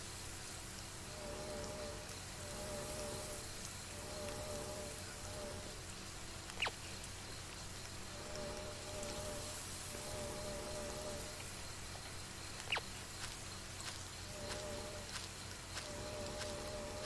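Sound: rain falling in the video game Rake

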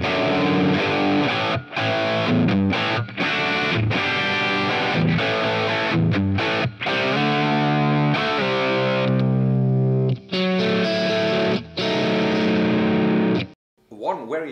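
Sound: distorted guitar through amp model

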